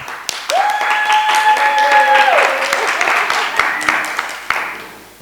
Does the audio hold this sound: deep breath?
no